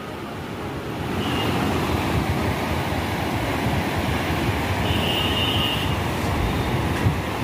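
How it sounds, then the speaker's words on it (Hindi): Swollen Ganges water rushes fast past the gates of the Narora bridge, a dense, steady roar of flowing water that fills the scene continuously after a quieter first second, with no voices. "काफ़ी तेज़ी से बह रहा है।"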